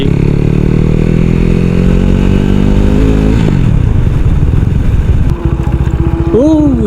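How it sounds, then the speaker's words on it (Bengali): A superbike roars past close by, engine pitch sliding down as it passes, followed by traffic noise and a brief high whine. "সুপার বাইক যেতেছে পাশ দিয়ে"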